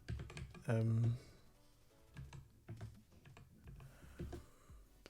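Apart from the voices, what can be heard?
typing on a computer keyboard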